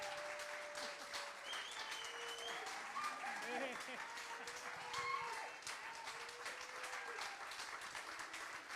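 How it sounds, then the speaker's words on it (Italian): Audience applause after a Sardinian tenore folk singing performance, sustained steady clapping from a crowd in a hall, with some voices and whistles mixed in throughout. "tutto questo applausi"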